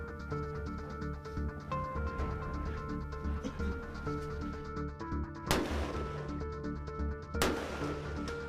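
Rifle shots at a local gun range while sighting in for a Saskatchewan deer hunt, two sharp cracks a couple of seconds apart over a background hum, moderately loud, no talking.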